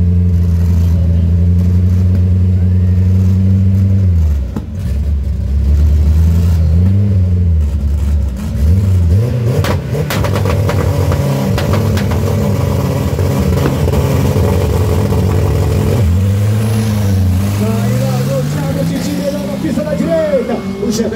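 A Chevette race car accelerates hard down the left lane of a drag strip, its engine climbing through gears with loud rising drones and brief drops at shifts, while an excited announcer talks over it throughout.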